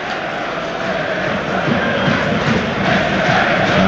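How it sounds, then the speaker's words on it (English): A football stadium crowd at a Plymouth versus Leicester City EFL Championship match applauds a yellow card. The roar and clapping are loud and steady, and they fill the whole stretch without a break. "And you can hear the applause because it is the first yellow card for a Leicester City player."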